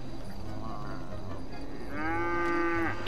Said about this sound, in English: Yeah, that's a cow.